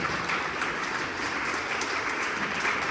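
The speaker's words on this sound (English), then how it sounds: "let's give our distinguished guests again a round of applause." A gala audience gives distinguished guests a brief, steady round of applause at an awards celebration, clapping evenly throughout.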